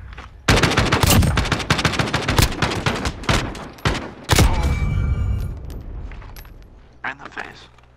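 Automatic weapon fire in the Call of Duty: Modern Warfare video game comes in rapid, loud bursts, then one heavy shot whose echo trails off, followed by a few scattered clicks.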